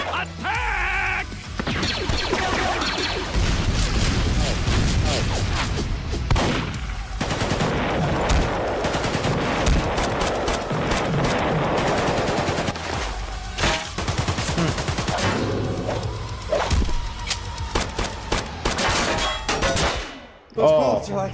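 Loud, dense bursts of rapid gunfire with crashes and impacts, nearly continuous for about twenty seconds before cutting off near the end.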